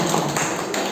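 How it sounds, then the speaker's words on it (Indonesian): A classroom or school gathering breaking into applause, a dense burst of many hands clapping close and loud, sustained and even across the whole second. "Betul, tepuk tangan."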